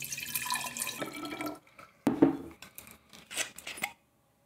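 Water pours steadily with a bright rushing splash for over a second while being mixed with cold brew concentrate, followed by a few scattered clinks and drips before it falls silent.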